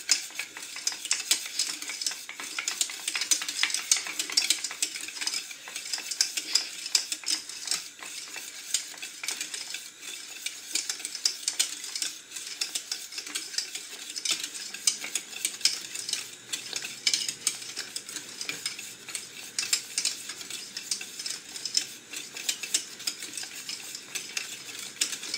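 A spoon scrapes steadily around a pan of diplomat cream as it cooks, a continuous soft swishing and scraping with a faint sizzle underneath, carrying on for about 25 seconds with no talking.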